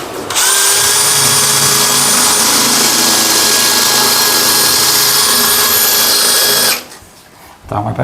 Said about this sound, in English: So we've drilled the holes.